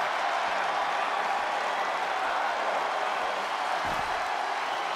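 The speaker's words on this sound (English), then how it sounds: "The sound of this crowd is deafening." A wrestling crowd cheers in the WWE 2K23 video game, a dense, constant roar of arena noise with no break.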